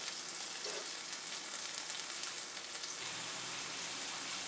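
Frozen beans with corn frying in a pan, a dense steady sizzle that holds evenly throughout, close and fairly loud with no talk.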